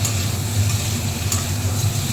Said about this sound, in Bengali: কাঁচা লঙ্কা টমেটো দিয়ে আলুগুলো আবার ভেজে নেব